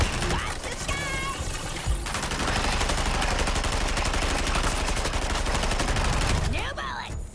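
Sustained rapid gunfire from a diamond gun in a shooter video game, a loud, continuous rattling stream of shots lasting several seconds, with in-game voices and effects layered around it.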